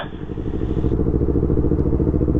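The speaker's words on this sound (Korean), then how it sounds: "오토바이 빨리 지나가서" A motorcycle engine roars loud and close on a mountain-road touring ride near Chuncheon, a dense, continuous rumble with no let-up and no talk.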